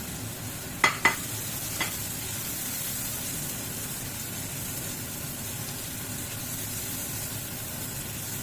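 Ginger, garlic and onion sizzle in a small amount of oil, a steady hissing crackle with a couple of sharp clinks of a utensil against the pan near the start.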